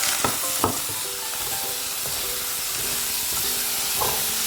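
Sri Lankan beetroot curry with chili powder, turmeric and salt is stirred in a pan over a steady loud sizzle, with a few scraping strokes of the spoon near the start and again toward the end.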